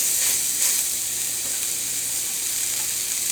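Ground beef balls, about a quarter pound, frying in a hot cast iron pan, giving a steady, loud, close sizzle with crackling spatter and no voices.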